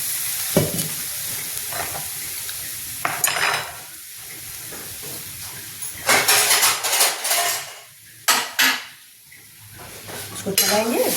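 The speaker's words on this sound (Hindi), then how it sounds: "इसको चलाएंगे, इसको चलाते रहेंगे जब तक कि हमारी कढ़ी जो है खदकने नहीं लगेगी" A spoon stirring kadhi of buttermilk and gram flour in a pot on a low gas flame, with repeated scraping clanks against the metal, bursts of stirring between quieter gaps and a soft background hiss.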